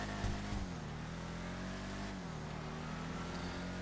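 Eleonore, a car, is driven out, its engine giving a low, faint, steady hum that rises and dips in pitch as it pulls away, with a brief thump near the start.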